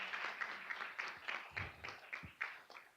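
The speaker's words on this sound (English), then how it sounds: "Round of applause." Scattered audience applause welcoming a panelist at an alumni forum, a short burst of quiet, somewhat sparse clapping heard from a distance.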